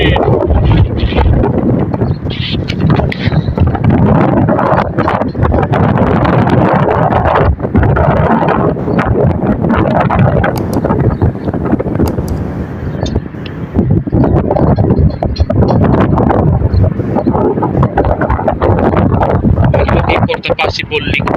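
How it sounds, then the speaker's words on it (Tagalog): Strong wind buffets the microphone outdoors, a loud continuous roar with gusting surges that fills the whole stretch, with occasional voices mixed in underneath. "Hangin!"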